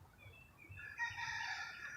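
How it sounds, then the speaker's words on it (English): Distant birds call from outdoors, including a rooster crowing in one long drawn-out cock-a-doodle-doo over faint background hum. "I hear birds at a distance"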